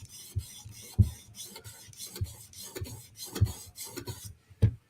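Knife sharpening on a 400 grit stone: steady, rhythmic rasping strokes of the blade across the stone, about nine close, scratchy passes in five seconds with no talking.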